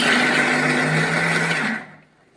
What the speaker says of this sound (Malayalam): ഇനി നമ്മൾ മിക്സിയുടെ ജാറിലിട്ട് ഒന്ന് അമർത്തിയെടുക്കാം.